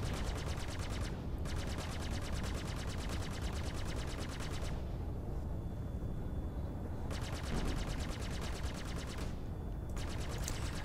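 Rapid ship turret gunfire during space combat in the game Star Citizen, dense sustained bursts of automatic fire with two short pauses, loud and close over a constant low rumble.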